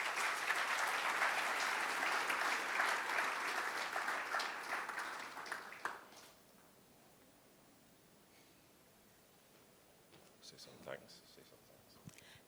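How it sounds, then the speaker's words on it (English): A conference audience at a PMI Africa closing session gives a guest a warm round of applause that builds dense and loud for about six seconds, then cuts away to quiet room tone with faint rustling and a few stray sounds. "Give her a round of applause."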